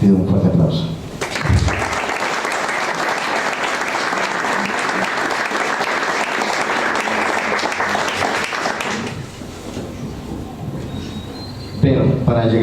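A crowd at an indigenous history talk breaks into loud, sustained applause that lasts about eight seconds and then fades. A voice speaks briefly before and after the clapping.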